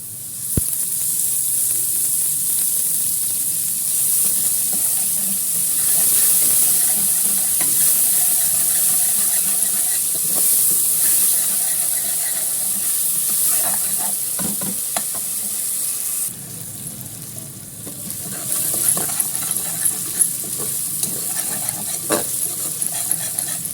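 Onions frying in two spoons of hot oil for a potato and pea curry, a steady close bright sizzle that carries on with little change, joined by occasional stirring scrapes and a brief dip partway through.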